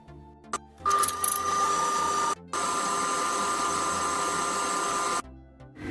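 A stand mixer beats choux pastry dough in a steady, loud motor whir with a brief pause partway through, then cuts off when switched off, heard up close without talk.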